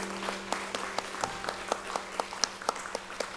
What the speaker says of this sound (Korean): 다 함께 강남교당 7분 법호인들께 거룩한 박수를 함께 보내주시기 바랍니다